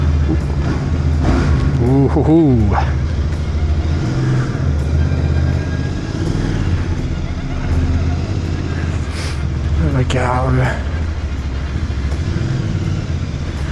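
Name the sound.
Royal Enfield Bear 650 motorcycle exhaust revving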